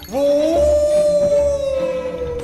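A single long, rising-then-sustained howl from a creature in the video game Puppeteer, loud and close, holding one steady wavering tone for about two seconds.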